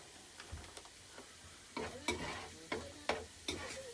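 Garlic sizzling in a frying pan for kare-kare, with intermittent stirring scrapes and clicks of a utensil against the pan, fairly quiet and close, no talking.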